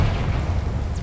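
Confringo blasting spell explosion in Hogwarts Legacy, a single deep booming rumble that holds steady and loud for about a second with a faint whoosh near its end.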